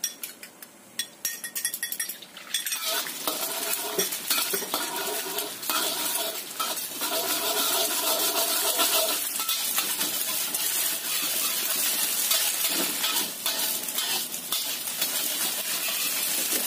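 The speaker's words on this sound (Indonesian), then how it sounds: "Ini kita goreng dulu telurnya. Kita bikin telur orak-arik." Eggs sizzle loudly in hot oil as they are stirred into scrambled eggs, with a constant crackling fry and scattered utensil scrapes and clinks against the pan, close up and without talk.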